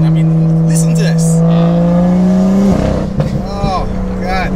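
Tuned BMW M2 with the N55 engine on an MHD Stage 2+ tune, its exhaust revving loud and close: a steady droning hold, then a sharp drop and a burst of rasping, crackling revs.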